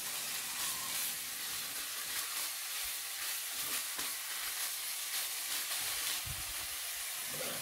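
Pork belly and pickled mustard greens stir-fried together in a hot pan give a steady, close, continuous sizzle and hiss with light scraping of stirring, and no one speaks.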